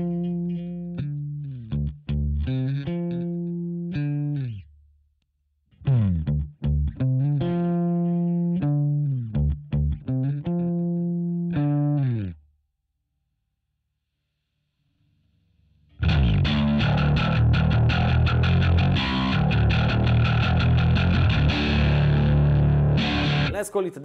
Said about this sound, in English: But even bone crashing distortion at times.